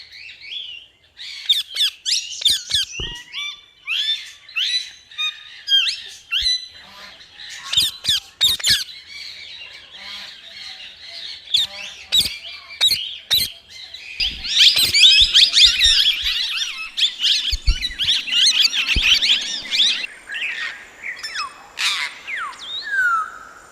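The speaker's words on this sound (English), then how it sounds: "Parrot." A parrot squawking and screeching in a long, loud run of harsh, rapid calls, nearly continuous with short breaks, close and dominant throughout.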